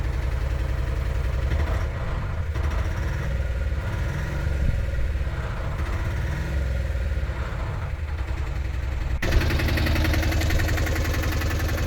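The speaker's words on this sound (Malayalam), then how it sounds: "ഈ കേൾക്കുന്നതാണ് എൻജിൻ സൗണ്ട്." A Piaggio Ape Extra DLX three-wheeler idles up close with a steady, unbroken engine drone and a slight knocking texture that holds evenly throughout, with no talking.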